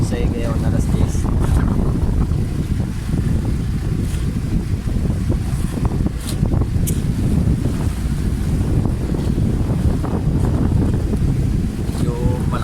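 Strong wind and rough sea heard from a fishing boat during a monsoon storm, a constant loud roar of gusts and crashing water with no break.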